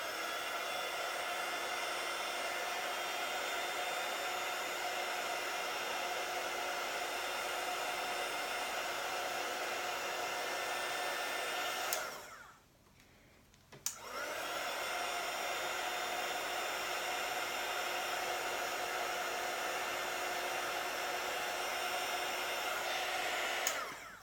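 A heat tool melting embossing powder blows with a loud, steady hiss. It cuts out briefly partway through and then starts again.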